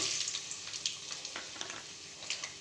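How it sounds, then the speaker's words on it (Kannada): Ginger and garlic fry in oil in a pan, a close, steady crackling sizzle with brief bursts of louder spatter as the pieces are stirred. "ಬಾಣಲಿ ಇಟ್ಟು ಸ್ವಲ್ಪ ಆಯಿಲ್ ಹಾಕಿ, ಅದು ಸ್ವಲ್ಪ ಶುಂಠಿ ಬೆಳ್ಳುಳ್ಳಿ"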